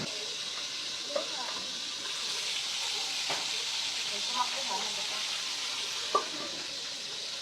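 Tilapia frying in oil outdoors gives a steady, soft broadband sizzle throughout, with a few faint clicks and taps rising above it.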